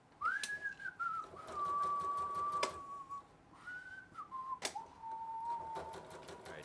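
A sewing machine does free-motion quilting with a hopping foot, making a quiet, rapid ticking of stitches. A person whistles a gliding melody over it and it stops briefly partway through.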